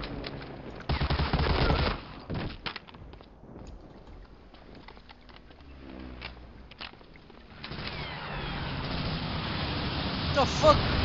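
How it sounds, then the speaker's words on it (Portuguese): Sniper rifle shots in Medal of Honor Allied Assault, a World War II shooter, with a loud cluster of gunfire early on, then quieter ambient battle noise and scattered distant shots. "Assim uns tirozinhos de sniper."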